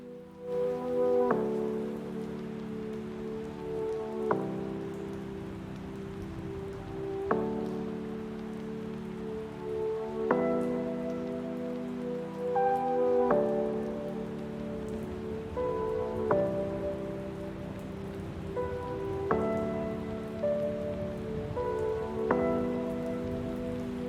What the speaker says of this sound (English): We've got some pitter-patter rain in the background.